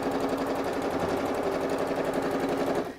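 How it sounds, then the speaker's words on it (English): A sewing machine stitches the seam of a fabric bolster cushion, running in a fast, even whirr for nearly three seconds before stopping abruptly. "just a couple of stitches backwards before you go forwards"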